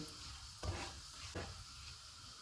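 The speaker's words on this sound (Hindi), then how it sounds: "एक दालचीनी का पीस, एक बड़ी इलायची, 2 सब्ज़ इलायची, 3 लौंग और 1 टीस्पून ज़ीरा। इनको 30 सेकंड तक फ्राई करेंगे।" Cinnamon, black and green cardamom, cloves and cumin seeds fry in hot oil with a soft, steady sizzle, broken twice by brief scraping stirs, quiet and close.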